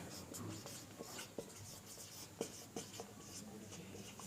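Marker or chalk strokes on a board during a maths lesson on integers, a series of soft scratching taps and squeaks at irregular intervals, close by and fairly quiet over low room hiss.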